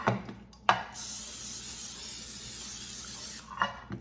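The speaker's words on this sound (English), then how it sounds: "Now I'm going to spray the casserole dish." A steady, hissing aerosol oil spray coating a casserole dish lasts a few seconds, close by, with short clicks and knocks just before and after.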